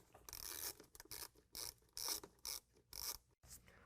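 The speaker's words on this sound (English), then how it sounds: "we're going to loosen up this band clamp using a 7mm." A ratchet wrench with a 7mm socket loosens the band clamp on an intake tube of a Ford Maverick, giving several short bursts of rapid clicking separated by brief pauses, close and clear.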